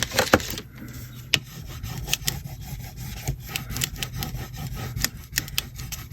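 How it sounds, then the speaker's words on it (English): Quiet, sticky crackling and rubbing as thick card is pressed together with glue, with scattered small clicks and ticks close by. "You can hear the glue."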